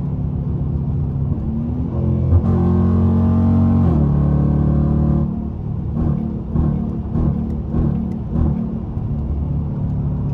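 A car engine rumbles close by, revs up into a rising whine, then drops back to a throaty idle with bursts of throttle.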